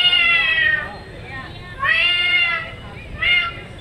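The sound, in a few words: person imitating a cat meowing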